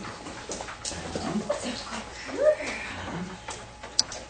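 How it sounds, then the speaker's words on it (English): A wolf dog and a Labrador in training, one whimpering and giving a few soft yips close by, with a short sharp bark near the end, while a person talks quietly in the background. "make sure you get the part where he's barking at her"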